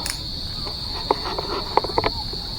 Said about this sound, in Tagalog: Naririnig nyo yung guys, yung kuliglig.